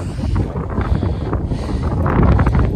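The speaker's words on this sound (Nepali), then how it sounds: "हावा पनि दामी चलिरहेछ" Strong wind gusts buffet the microphone in a loud, continuous roar, rising slightly toward the end.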